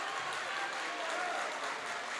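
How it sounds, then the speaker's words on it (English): An excited crowd at a high school boys basketball game between Monona Grove and Westosha Central, a steady wash of applause and cheering filling the gym, moderately loud and continuous throughout. "Pretty excited crowd here, as you might expect."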